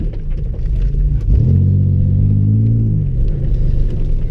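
Pontiac Grand Prix GT engine revving as its tires spin in place before a car jump, a loud low droning rumble that rises and holds steady, then falls away, with no talking.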